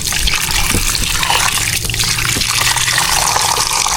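Peeled cassava is washed in water outdoors, with continuous splashing, trickling and sloshing close by, dense and steady throughout with a few louder dips and knocks.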